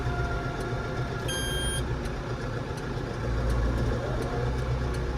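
A Landini 5-120rs tractor reverses with its engine running in a steady, close, low drone, and a short high beeping tone sounds early on. No one speaks.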